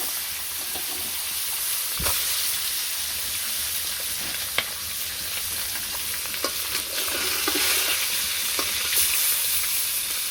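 Fresh fish frying in a well-heated wok in a village kitchen: a loud, continuous sizzle and crackle with a few sharp pops and scrapes breaking through.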